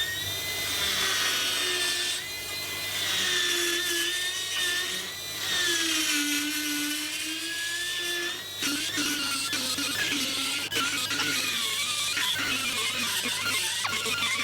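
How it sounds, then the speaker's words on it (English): Pneumatic die grinder grinding out a hole in a boat's metal anchor roller, a loud continuous high-pitched whine that rises and falls with load, close and alone, with no talking. "we're going to start grinding out that hole on the other side of the anchor roller"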